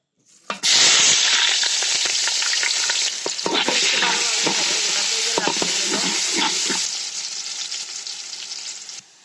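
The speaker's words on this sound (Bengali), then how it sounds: "তেজপাতা, মরিচ, পেঁয়াজগুলো তেলের মধ্যে দিয়ে দিব।" Bay leaf, chili and onions hit hot oil for biryani with a loud sudden sizzle, then crackle and fry steadily while a utensil stirs and scrapes the pan, the hiss easing slightly near the end.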